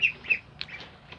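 Young Peking ducklings call in short, high peeping squawks, several brief bursts close by over a quiet background.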